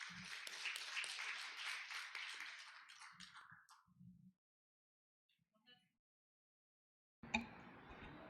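Audience applause at a patent court conference, a burst of clapping that fades out after about four seconds, followed by near silence and then a sudden return of room noise.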